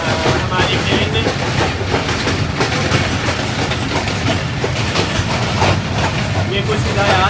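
The Chenab Express passenger train running on rails between Sargodha and Mandi Bahauddin, heard from inside as a loud, steady rumble with rhythmic clickety-clack of wheels over rail joints, continuous throughout, with no talk.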